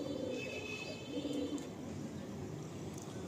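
Kalsira pigeons coo softly in a loft, low murmuring calls over a steady background hum, with a few faint chirps.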